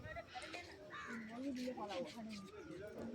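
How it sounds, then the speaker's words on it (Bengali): Crows caw repeatedly in the early morning near a railway station, with other birds calling around them. The harsh calls come at an irregular pace at mid distance, mixed with a murmur of voices. "দেখো আর পাখিদের ডাক একদম দারুণ দারুণ।"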